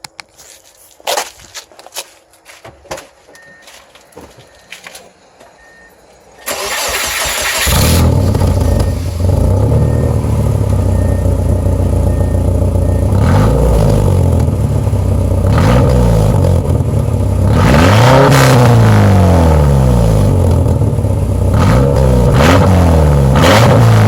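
A rebuilt truck engine runs close at the tailpipe, a deep steady exhaust rumble with uneven revving swells, coming in abruptly after several seconds of faint clicks and handling noises, with no talking.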